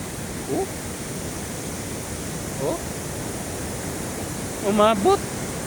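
Sea waves churn at Long Beach during Typhoon Kristine as a constant, dense roar of surf with no breaks, and a voice briefly surfaces a few times over the noise.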